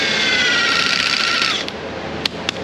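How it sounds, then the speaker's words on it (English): A steady, high-pitched whirring grind of a power sander on a Volkswagen Jetta 2.5 headlight running for over a second, then cutting off, followed by a couple of sharp clicks. "Beginning sanding process now."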